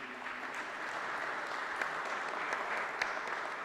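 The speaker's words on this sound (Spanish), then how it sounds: "Fuerte aplauso, por favor," Audience applause fills a press conference held to present the losses and damage from tropical depressions Eta and Iota, a steady, fairly quiet wash of many hands clapping throughout with no voices.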